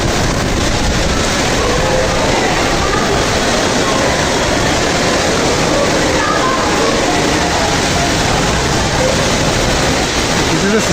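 Heavy rain and storm at Barrackpore railway station pour down as a dense, loud, unbroken hiss and roar, steady throughout with no letup.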